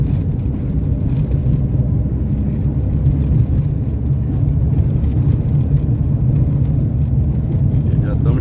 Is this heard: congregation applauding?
no